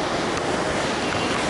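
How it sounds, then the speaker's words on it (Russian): Small decorative waterfall inside a shopping centre, a steady broadband rush of falling water, close and even, with no break over its brief length. "Водопадик"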